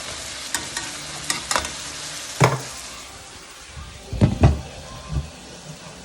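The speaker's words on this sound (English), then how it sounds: "I'm just gonna let that simmer like that for about, give or take, 4 or 5 minutes." Lamb sizzles and simmers in a pan with a steady frying hiss, broken by a few nearby clanks and scrapes of a utensil against the pan.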